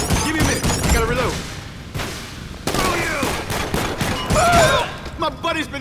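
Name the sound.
gunfire in the video game GTA Online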